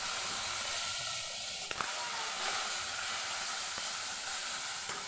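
Onion paste sizzling in hot oil in a pan, a steady close hiss and crackle holding throughout with a few sharp pops.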